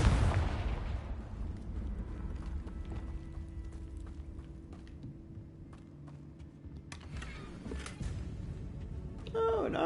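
A Confringo blasting curse goes off in the Hogwarts Legacy game, a loud burst at the start fading into a rumbling tail, with further crackling impacts near the end over a continuous low game ambience.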